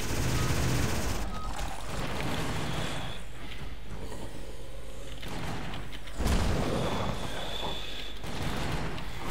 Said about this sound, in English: Ah, minigun! Yay, minigun!